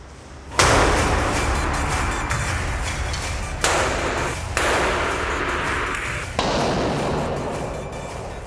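A can of urethane foam sitting next to a running electric heater during an indoor fire test bursts with a sudden loud bang and a sustained rushing hiss. Several more abrupt pops follow, each with continued spraying noise.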